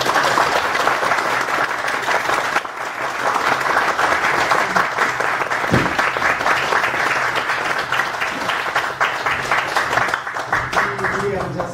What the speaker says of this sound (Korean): 박수로 환영해 주시면 감사하겠습니다.